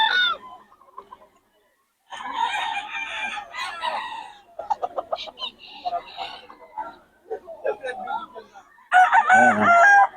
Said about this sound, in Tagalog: Solid mga manok niya ni Boss Albert.